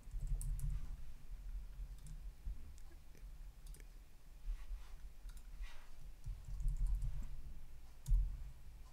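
Keys clatter on a computer keyboard in irregular short bursts of clicking, fairly close and moderately quiet over low background hum, with no talking.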